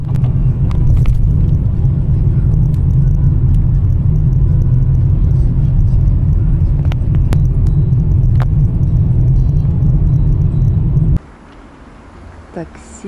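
Taxi driving through Moscow, with a steady low engine and road rumble from inside the car that cuts off abruptly near the end as it pulls up near a hotel, leaving quiet interior noise.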